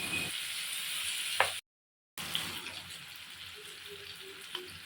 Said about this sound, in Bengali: সুন্দরভাবে কষিয়ে নিব চিংড়ি মাছ আর আলু পেঁয়াজের সাথে।